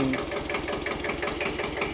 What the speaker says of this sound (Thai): ตัวนี้เป็น เครื่องยนต์2สูบนะครับ เครื่องยนต์2สูบ 15 แรงม้านะครับ